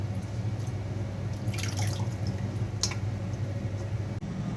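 Washed, chopped Malabar spinach drains in a kitchen, giving faint dripping and light wet trickles over a low steady background hum, with no one speaking.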